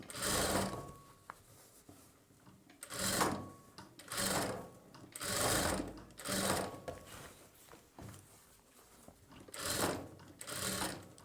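Sewing machine stitching sleeves onto a boat neck blouse, running in repeated short bursts of rapid clatter separated by brief pauses, close and moderately quiet, with no talking.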